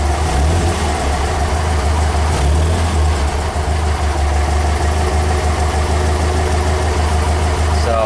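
A VW 1800 engine with an old generator idles steadily and loudly at close range, a constant low rumble with no pauses or revving throughout.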